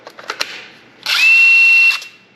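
A cordless drill whirs up to a steady high-pitched whine for about a second, preceded by a few clicks and taps, close and loud.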